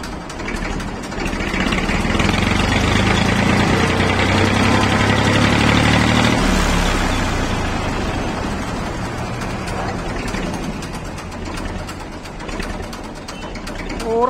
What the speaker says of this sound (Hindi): और ये देखिए दोस्तों, हाफ की स्टार ट्रैक्टर है।